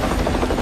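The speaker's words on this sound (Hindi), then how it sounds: "नेपाली सेना के हेलीकॉप्टर की मदद से उसे सुरक्षित एयरलिफ्ट किया गया।" A Nepali Army rescue helicopter during flash-flood airlifts, its rotor and engine a steady loud, close whir in a brief burst without speech.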